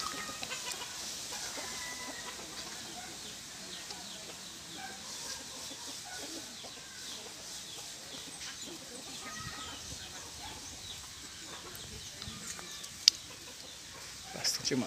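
Chickens clucking in a poultry area on a rural farm plot, faint and somewhat distant, with scattered clucks over steady outdoor background noise and a brief louder knock near the end.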